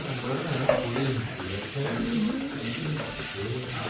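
Close sizzling of ginger frying in a pan, with the scrape of a spoon stirring through it in an uneven rhythm.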